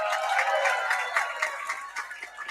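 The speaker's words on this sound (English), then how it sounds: "Applause for China." Spectators packed ten deep cheer the team from China during the Parade of Nations at the 2024 U.S. Kids Golf World Championships, a dense wash of crowd clapping that swells early then gradually thins and fades.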